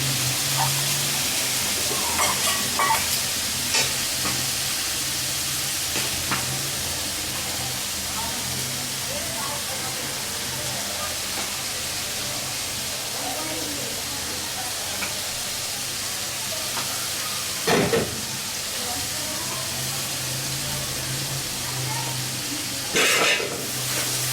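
Spice paste frying in oil in a Bengali home kitchen as yogurt goes in for doi begun, an eggplant curry, giving a steady soft sizzle and hiss throughout with a few brief louder crackles and clatters.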